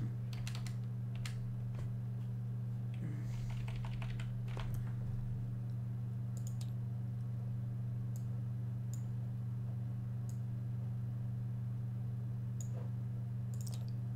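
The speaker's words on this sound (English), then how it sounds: "I'm going to type here." Sparse keystrokes tap on a computer keyboard, with scattered single clicks and short bursts spread over a long stretch above a steady low electrical hum.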